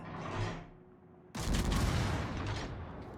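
Warship main guns fire in the naval video game World of Warships, a sudden heavy booming salvo that bursts in loudly partway through and rolls on with rumbling after a quieter stretch of game ambience.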